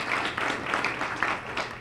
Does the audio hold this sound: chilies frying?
no